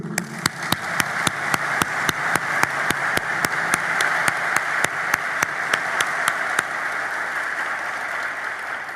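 An audience applauds steadily throughout a graduation ceremony, with the dense clapping holding at a constant level alongside a regular sharp ticking.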